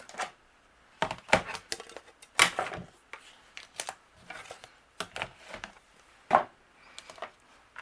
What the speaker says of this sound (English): I'm going to take these flower centers and die cut these out with white cardstock.